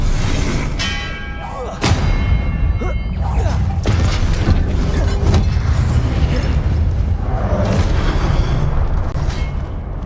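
A Confringo blasting curse explodes in Hogwarts Legacy, giving a sharp boom and thudding blasts amid busy combat noise, with a voice calling out spells over the loud, dense action.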